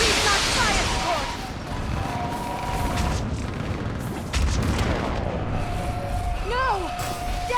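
Gunfire and artillery fire support boom and crack in a Mass Effect 3 battle, heavy blasts mixed with rapid shots and whooshing projectiles, loud and sustained, with voices shouting over the combat.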